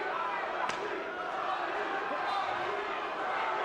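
Distant arena crowd at a Las Vegas fight murmuring and chanting the name Lighty, a steady roar with a couple of sharp thumps over it.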